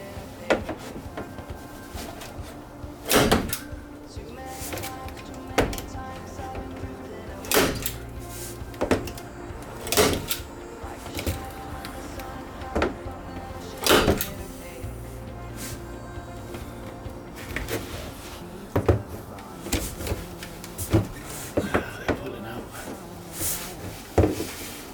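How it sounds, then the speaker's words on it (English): A small nail gun firing into thin 5mm plywood, a long series of sharp, separate thwacks at uneven intervals with handling noise between them, close by. "we're going to see if it works, to use the nail gun on this"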